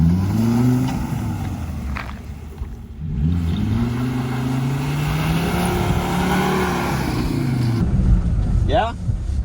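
A Volvo V70R with all-wheel drive revs hard while reversing through mud, the engine note climbing and falling in several surges, loud and close, with brief scraping sounds near the end.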